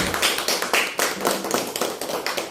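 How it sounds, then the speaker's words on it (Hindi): A church congregation at a Hindi-language worship service claps loudly and continuously, dense overlapping handclaps forming a steady wash of applause up close, with no voices. "जोरदार तालियां जिंदा खुदा के लिए।"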